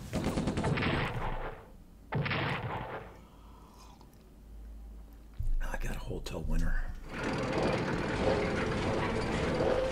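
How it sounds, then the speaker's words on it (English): Anti-tank gun fire and bursts of combat noise in the strategy game Strategic Command, loud blocks of rapid gunfire separated by quieter gaps, heard alone. "the AT gun's doing its job."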